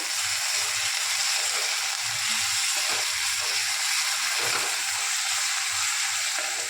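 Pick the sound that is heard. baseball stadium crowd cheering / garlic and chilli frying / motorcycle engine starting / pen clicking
garlic and chilli frying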